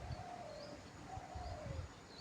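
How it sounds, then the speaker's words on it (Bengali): Birds call near a canal at Gourangapur on the DVC canal in Bidyabati, with faint, repeated soft coos and chirps drifting over a quiet outdoor hush. "প্রচুর পাখি এসেছে এখানে"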